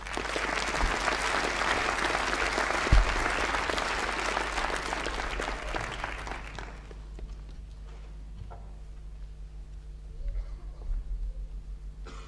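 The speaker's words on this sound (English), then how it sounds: "Please can applause take place after the final name in the group has been announced." Audience applause at a 2008 university graduation ceremony: a large hall of steady clapping for several seconds that fades out, leaving quiet room noise with scattered shuffles and a faint voice.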